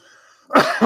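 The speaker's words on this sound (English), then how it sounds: "I have a cough" A single sharp adult cough, loud and close, following a brief stretch of faint background tone and trailing into a second burst.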